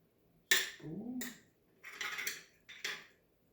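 A regular metal spoon scooping sourdough starter onto a kitchen scale, producing a few close, quiet scrapes and soft taps in a silent room.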